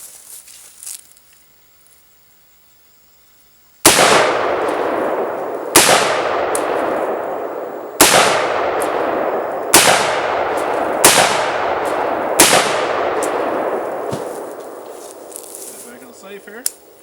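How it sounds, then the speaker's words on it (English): Six loud gunshots fired one after another from self-defense home defense ammunition, each a sharp close crack followed by a long ringing decay, spaced about one to two seconds apart after a quiet lead-in. "Now I'm going to switch over to the self-defense ammo, the home defense ammo, and see how it does."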